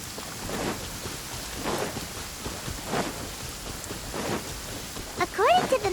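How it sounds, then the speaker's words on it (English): A heavy rain downpour in Genshin Impact hisses steadily, with swelling gusts and a few rumbling surges, and faint game tones rising near the end. "Taking a stroll in the middle of a downpour certainly rouses the spirit."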